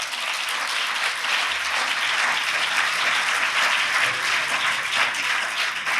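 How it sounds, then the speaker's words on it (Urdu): A church congregation claps steadily at an Easter sermon, a dense, even wash of applause holding at a constant level throughout with no voices above it. "اگر تالیاں بجانی ہیں تو پھر ذرا کھول کے بجاؤ۔"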